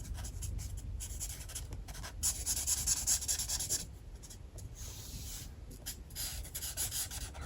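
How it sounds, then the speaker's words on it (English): Fine-nib marker scratching and rubbing across paper while darker shadows are coloured in, a close, continuous dry scribbling with short strokes and brief pauses, no voices. "I'm going to just get my darker colour now and use my finer nib"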